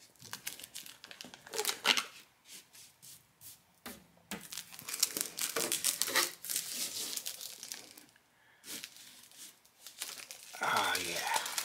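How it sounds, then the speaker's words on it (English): Protective plastic film is peeled and crinkled off a wood sheet in close, uneven bursts of crackling and tearing with brief pauses, while a person talks. "I gotta get this and take this plastic off"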